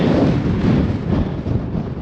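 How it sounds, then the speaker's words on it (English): Strong wind roars across a high mountain summit on Mount Pinos in Los Padres Forest, a loud, continuous low buffeting rush battering the microphone throughout, with no voices. "Holy crap, it's windy."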